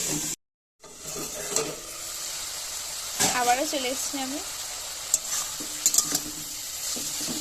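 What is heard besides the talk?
cauliflower frying in pan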